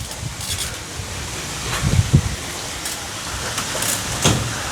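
Steady wind buffets the microphone with a rough rushing noise, swelling in a few low gusts.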